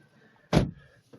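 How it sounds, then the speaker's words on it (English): A single solid thud as a Mercedes car door is pulled shut from inside the cabin at the Geneva Motor Show in Qatar 2023, followed by a faint soft click and no talking. "let's shut that door."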